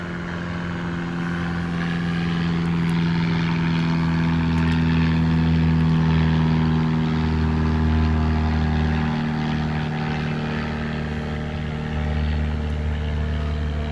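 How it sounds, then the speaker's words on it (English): A propeller airplane drones steadily overhead, its low engine hum swelling slightly and holding at an even, continuous level with no voices. "There's an airplane flying over."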